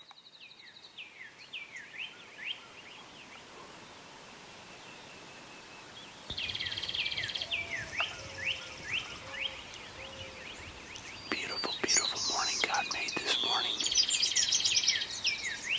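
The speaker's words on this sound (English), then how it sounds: "Hear all those birds." Many small birds, including doves, chirp and tweet steadily in the open air during a morning turkey hunt, a busy morning chorus, while someone speaks quietly over it.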